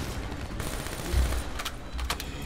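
Gunfire in Call of Duty: Black Ops III rattles steadily through a dense battle din, with a few sharper shots cutting through near the end and no talk.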